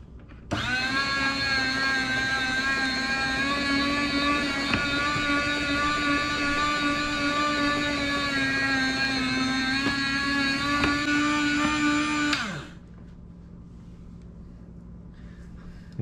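An electric meat slicer cuts firm, chilled but not frozen home-cured bacon into even strips. A close, steady motor whine runs for about twelve seconds with a few faint ticks, then winds down to quiet room hum, with no talking.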